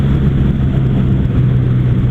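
A Kawasaki W800 cafe racer motorcycle accelerates on a main road, a loud, steady, low engine drone with a strong rumbling tone and wind noise, no voices.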